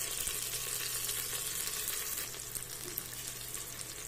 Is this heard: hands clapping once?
no